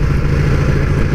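A Ducati Panigale 1299 running with a rough, glitchy engine note, a loud, steady low mechanical drone with clattering texture and no break.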